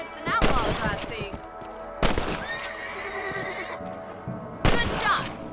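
Three sharp gunshots ring out in a Red Dead Redemption rabbit hunt, spaced a couple of seconds apart, each with a ringing tail, amid horse whinnies and outdoor game ambience.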